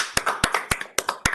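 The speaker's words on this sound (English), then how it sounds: "we're all clapping for everybody." An audience at a regular city council meeting claps: a short, close patter of sharp hand claps in an uneven, quickly repeating rhythm, with no voices.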